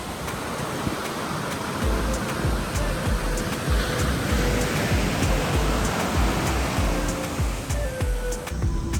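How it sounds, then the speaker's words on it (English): Ocean surf breaks along the Costa Rican shore near Herradura on the Nicoya coast in the rainy season, a dense, steady roar of crashing waves that holds for the whole stretch with no voices over it. "Looks like there's some really good waves down there"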